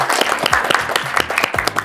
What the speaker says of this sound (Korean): 세 분 답변 다 잘 들으셨죠? 박수를 좀 보내드려야 될 것